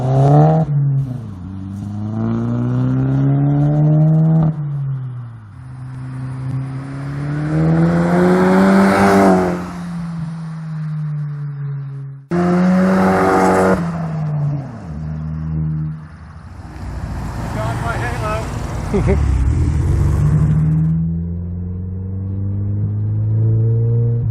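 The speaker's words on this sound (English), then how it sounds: "let me give you a couple of sound files through open throttle acceleration" A car with a Baun Performance catback exhaust revs hard under full throttle, its exhaust note climbing in pitch through the gears with a loud, rasping roar and brief drops between shifts.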